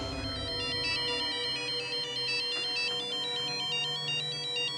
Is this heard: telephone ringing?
yes